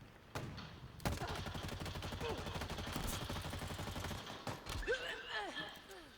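Sustained automatic weapon fire in the Halo Infinite shooter game, a rapid, even rattle of shots running for several seconds, cut by a few heavier single blasts, followed by scattered whooshing effects and a brief voice exclamation.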